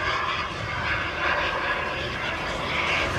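A model jet engine at an airshow roars steadily and loudly nearby, a broad continuous rushing whine with no breaks.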